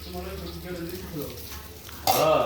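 Ghee hits hot homemade barbecue and bursts into a sudden loud, close sizzle near the end, after a stretch of quieter cooking noise under a person talking.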